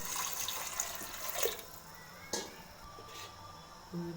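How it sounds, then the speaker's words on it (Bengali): Cut potatoes being rinsed in water for a Bengali chatpati, with soft splashing and trickling, a few brief louder sloshes standing out against a quiet kitchen background. "আলু কেটে নিয়েছি। এবার এভাবে ধুয়ে নেবো"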